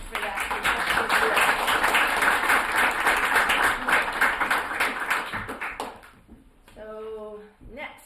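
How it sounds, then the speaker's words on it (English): Audience members at a town council meeting clap in a brisk, lively burst that fades out after about six seconds, followed by someone briefly speaking. "I want a round of applause for that."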